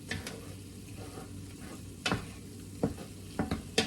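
Ingredients for batchoy Tagalog frying in plenty of oil, a steady soft sizzle with a few brief louder clinks and stirs from a utensil near the end.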